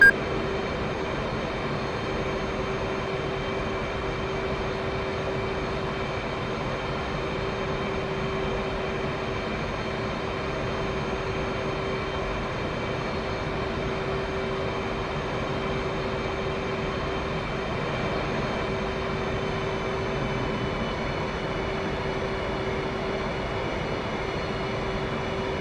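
Inside an F/A-18C Hornet in DCS World on landing approach, the jet engine drones as a steady, even cockpit rumble with a constant mid tone, continuous and unchanging throughout, no talking.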